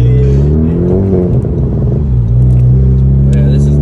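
Exhaust note of a 10th-gen Honda Civic Si with an aftermarket catback, idling and lightly revving at a red light, a loud, close, low droning rumble with a brief throttle blip, and people talk over it.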